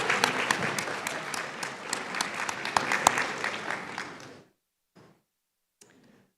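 Audience applause at a nursing college white coat ceremony, a dense, steady clapping crowd that keeps going for about four seconds and then stops abruptly, leaving only a couple of faint scattered claps.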